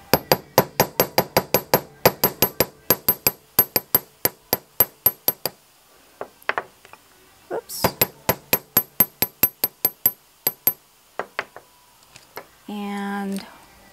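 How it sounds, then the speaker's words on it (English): Rapid, sharp hammer taps on a metal wire J hook in quick rhythmic bursts, close and crisp, pausing briefly between runs, with a short voice at the end. "I'm going to hammer the curve down"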